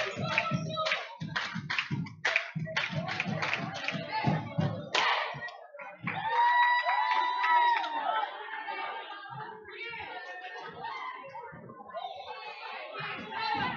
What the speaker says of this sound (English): Mustangs bench clapping it up for their teammates that are currently on the court